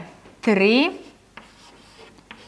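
A marker writes on a board, giving one sharp rising squeak followed by a few faint, brief scratchy strokes.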